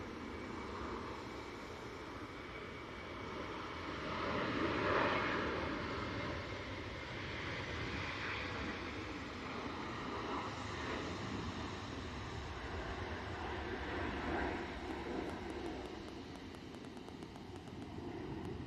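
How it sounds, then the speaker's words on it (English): A Ryanair Boeing 737-800 starts its takeoff roll at Manchester Airport, a steady broad engine roar heard from a distance that swells slightly around the middle and holds with no talk over it. "Let's get this Ryanair, because I said I'd get it for Cassian, so... 737-800 now on the roll."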